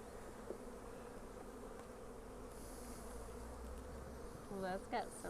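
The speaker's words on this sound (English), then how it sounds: "I'm trying not to squish bees, but there's a lot of bees." A dense, steady drone of many honeybees buzzing close by around an open hive, with a brief voice surfacing near the end.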